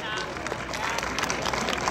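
Crowd applause welcoming a military prep-school instrumental band at an Armed Forces Day recruitment event and band competition, steady dense clapping with crowd babble throughout.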